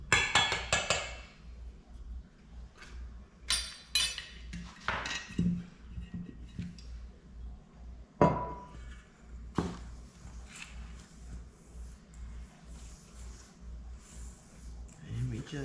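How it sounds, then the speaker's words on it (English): Rum ball ingredients, including Jack Daniels whiskey, being stirred together in a bowl, with irregular clinks and knocks of a utensil against the bowl under intermittent talking. "And we just mix it all together"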